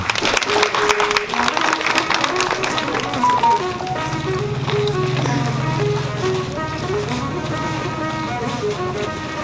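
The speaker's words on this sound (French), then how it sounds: "Est-ce qu'on peut applaudir ce discours de monsieur le directeur général?" Applause from an audience at the inauguration of the APMOTOS headquarters in Cinkassé, following the director general's speech. The clapping is steady and sustained for the whole stretch, blended with music and voices.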